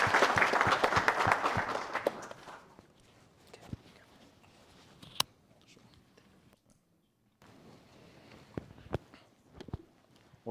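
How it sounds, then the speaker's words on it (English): Applause at a live engineering competition event, a short burst of clapping that fades within a few seconds, followed by scattered taps, footsteps and quiet room noise. "I think that was a round of applause."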